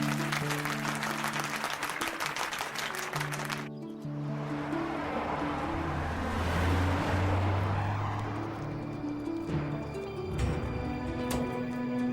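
A committee bursts into clapping to approve a decision after a stretch of music, a dense wash of many hands that swells and fades over several seconds with faint background tones.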